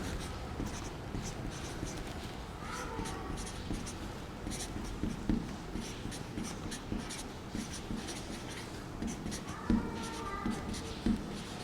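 Chalk or pen scratches and taps steadily as rules for differentiation are written out in a math lesson, close and moderately loud, with faint speech in the background.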